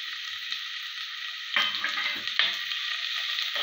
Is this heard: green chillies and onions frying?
yes